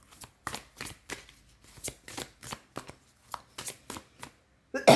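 Tarot cards being shuffled by hand, a steady series of about a dozen crisp riffling bursts, close and fairly quiet, evenly spaced with short silences between, ending in a louder rustle.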